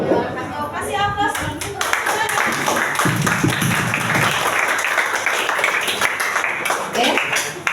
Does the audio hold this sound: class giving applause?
yes